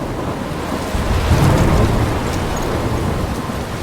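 A thunderstorm in the game Life is Strange: heavy rain roars steadily while a low thunder rumble swells briefly near the middle, loud and continuous with no voices.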